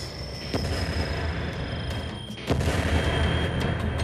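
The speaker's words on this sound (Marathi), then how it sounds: "या आहेत गारपिटीची तीव्रता कमी करणाऱ्या तोफा" An anti-hail cannon fires against hailstorms, giving sharp booming blasts at about 0.5 and 2.5 seconds over a dense rumbling background, loud and fairly close.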